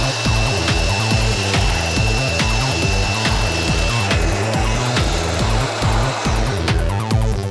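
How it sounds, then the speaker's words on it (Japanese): A Makita blower pushes water off a freshly washed car, a loud, steady, close roar with a rhythmic pulsing throb running through it for several seconds, with no talking. "こちらマキタのブロワーを使って自然乾燥をさせていきます"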